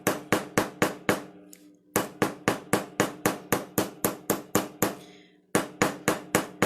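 Steady hammer blows drive rivets into a moth centerpiece kit, about fifteen sharp, evenly spaced strikes in two runs with a brief pause between, loud and close with no talking.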